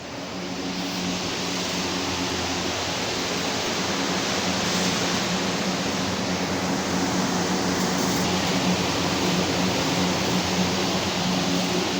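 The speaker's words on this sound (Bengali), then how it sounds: "আবার ড্রায়ার চলছে এখন" An industrial dryer runs in a hot pasta factory drying room, a steady, loud broadband roar with a low hum that holds unchanged throughout, with no voices.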